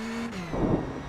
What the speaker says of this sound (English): So we've got our final car who will cross the line now